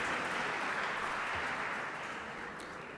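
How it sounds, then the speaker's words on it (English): Sustained applause from an audience at a live student parliament press event in India, a steady dense wash of clapping that fades slightly toward the end, with no voices over it. "a big round of applause for Rahul Vishwanath Karad sir for this"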